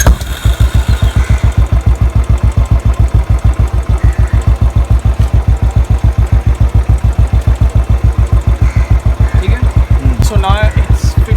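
A Royal Enfield Standard 500 engine idling close by, a loud steady single-cylinder thump with metallic clatter throughout and brief talk near the end.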